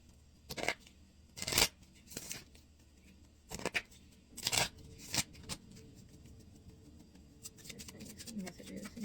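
Oracle cards being shuffled by hand, a series of short crisp riffling bursts at uneven intervals, close and fairly quiet, with faint rustling in between.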